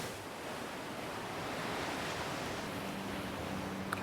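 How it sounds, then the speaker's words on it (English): Ocean swell breaks against a rocky shore, a loud, constant roar of surf and wash with no pauses, heard alone without voices. "the waves are standing at nearly my head height"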